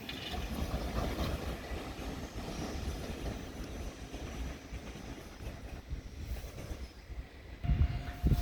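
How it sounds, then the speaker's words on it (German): An RB16 regional train pulls out of München Hauptbahnhof, a broad low rumble of rolling wagons under the station hall, steady and moderately close, with a brief tonal note near the end. "Ausfahrt RB16 nach Greimersheim über Ingolstadt Hauptbahnhof."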